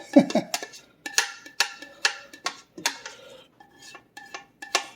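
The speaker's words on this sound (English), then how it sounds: "Out of the pot and into the crock pot." Navy beans scraped out of a pot into a crock pot: a quick run of sharp metallic scrapes and clanks of a spoon against cookware, close and fairly loud, with a brief voice sound at the start.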